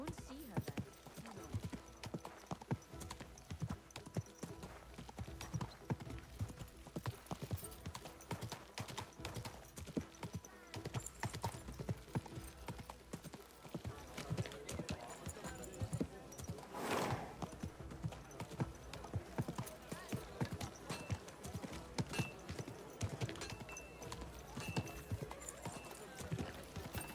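Horse hooves clip-clop steadily at a slow walk in the video game Kingdom Come Deliverance 2, a continuous close rhythmic patter with occasional talk over it.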